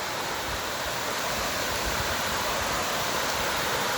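A small waterfall beside a forest trail sends a loud, continuous rushing roar with no breaks and no voices.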